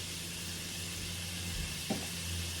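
Pork that came pre-flavoured with barbecue seasoning, stir-frying with onions and sesame oil in a pan on high heat, gives a steady, continuous sizzle throughout, with a faint dull knock near the end and no talking.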